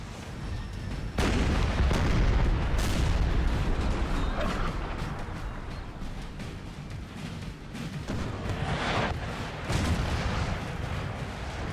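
Artillery fire in a Napoleonic-era battle in Napoleon Total War: heavy cannon booms and crackling gunfire roll in dense, overlapping waves, loudest near the start and again toward the end, with no voices.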